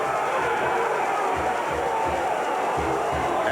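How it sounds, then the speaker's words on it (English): Sellout stadium crowd at Notre Dame Stadium cheering as the top-ranked college football team takes the field in 1993, a dense, continuous roar with rolling swells, loud and distant-sounding. "the sellout crowd here at Notre Dame Stadium as they greet the number 1 team in the country"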